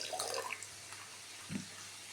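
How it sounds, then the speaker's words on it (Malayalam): A little water is poured into a homemade mayonnaise mixture of garlic, eggs and vinegar, giving a brief faint splash and trickle followed by a quiet drip-like sound. "പിന്നെ ശകലം വെള്ളം ഒഴിച്ചെടുക്കുക."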